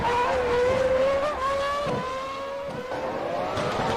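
A race car engine holds a sustained steady whine during a race, pitch drifting slightly up and down with small gear-like shifts, loud and continuous with no talk.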